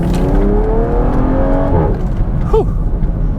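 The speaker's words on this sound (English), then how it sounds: "sitting out here in the all-new Toyota Supra 3-liter inline 6 engine" A 2022 Toyota Supra with its 3.0-liter inline-six in sport mode pulls hard in the cabin, the engine note climbing through the revs before easing off, loud and close with a brief sound of a shift or lift.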